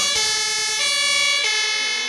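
An ambulance siren in a video game, a loud continuous wailing tone that rises and falls steadily, close and unbroken, with no voices over it.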